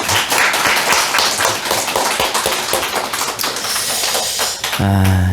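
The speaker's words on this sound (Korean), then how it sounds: "오늘도 우리를 이 예배의 자리로 인도해 주신 하나님께 감사와 영광의 박수 올려드리겠습니다." A church congregation claps during a worship service in praise and thanks to God, with brisk, fairly close clapping running throughout before a brief sustained tone near the end.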